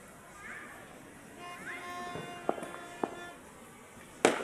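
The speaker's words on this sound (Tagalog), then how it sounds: "Ang dami pa nagpapa-fireworks, no?" New Year fireworks bursting at a celebration, with a few sharp distant pops and one louder crack near the end, over a background hum and whistling tones, with a voice talking faintly.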